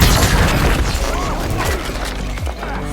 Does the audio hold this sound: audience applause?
no